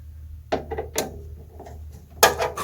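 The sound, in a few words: unscrewing four screws to remove an HP server board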